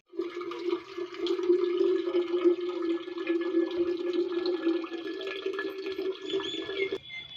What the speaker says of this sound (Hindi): अभी यहाँ पर मैं ना दाल में पानी डाल के रख रही थी